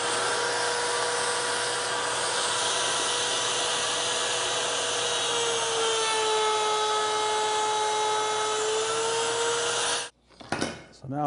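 A router table cutting along the edge of a small cabinet panel with a piloted bit, a loud steady high whine with a slowly shifting pitch for about ten seconds, then cutting off abruptly into a few faint knocks.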